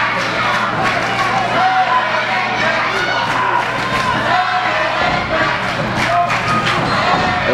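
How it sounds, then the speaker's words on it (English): Wrestling crowd at an LCW event chanting and cheering in a loud, continuous roar, with rhythmic shouted chants and occasional thuds from the ring mixed in. "the sudden impact chant started again as the LCW crowd trying to get Green the energy"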